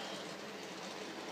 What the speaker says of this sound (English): J39 locomotive